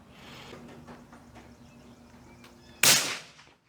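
Suppressed rifle of an obscure caliber fires a single sharp, loud report near the end, breaking a quiet stretch of faint ambient noise before decaying quickly.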